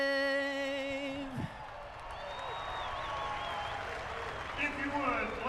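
Crowd applauding at the 2015 Toyota Grand Prix of Long Beach IndyCar race right after the national anthem, steady clapping with scattered whoops and cheers over sustained tonal music from the anthem's end.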